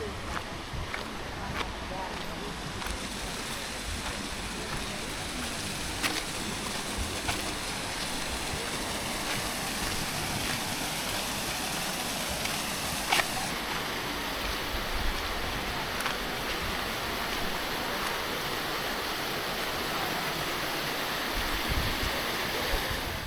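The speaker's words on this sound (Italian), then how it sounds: "e sotto c'è il fiume" A river flows below a thermal spa complex in Argentina with a continuous broadband rushing wash that stays steady throughout, with occasional faint clicks and soft voices in the background.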